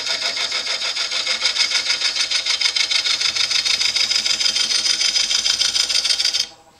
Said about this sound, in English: I've created this little feature, and I'm doing that very slowly with a round nose scraper